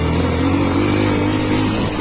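A dirt bike ridden off-road on rough trail, its engine droning steadily and loud throughout with a low rumbling tone and no pauses.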